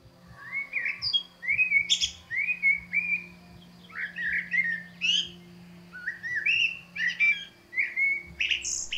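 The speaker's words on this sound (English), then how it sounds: "what I like to think a blackbird song sounds like is like a man whistling" A blackbird sings nearby in clear, fluty whistled phrases, repeated every second or so with short pauses, alone over a quiet low hum.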